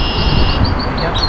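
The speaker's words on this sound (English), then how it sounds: "This bird is hearing his own chirp but thinking it's another bird." A bird chirps repeatedly in spring, its short high notes coming close and clear over a busy, noisy outdoor background.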